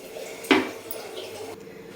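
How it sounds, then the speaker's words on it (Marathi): Chicken curry being spooned from a pan onto a plate: a single sharp clink of utensil against metal, followed by soft wet squelching and a quiet kitchen background. "तर काढून दाखवते तुम्हाला एका प्लेटमध्ये"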